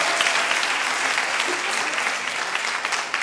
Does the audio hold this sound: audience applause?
yes